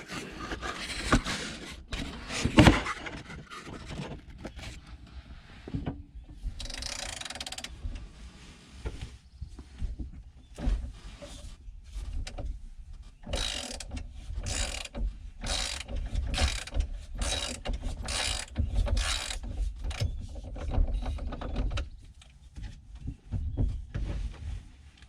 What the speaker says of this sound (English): I'm going to use a ratchet to see if I can break it loose with that